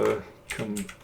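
A computer keyboard is typed on in a few quick, soft clicks close by, brief and sparse, with faint speech.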